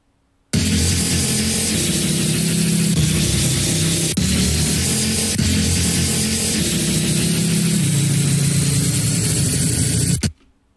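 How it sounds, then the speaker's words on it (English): Electric bass line played on its own with a harsh, distorted tone, a loud, dense, buzzing sustained drone with steady looping notes that starts abruptly and stops abruptly about ten seconds later. "the bass sounds something like this."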